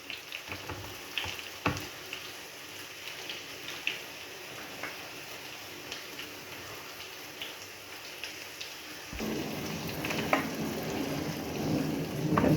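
Burger meat patties cook in a pan with a faint, continuous frying hiss and scattered small pops. The sound grows somewhat louder and denser toward the end, with no talking.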